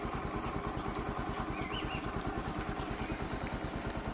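A Bajaj Pulsar NS160/NS200 motorcycle engine warms up at idle in a street, giving a close, steady, rapidly pulsing thump that holds an even rhythm throughout.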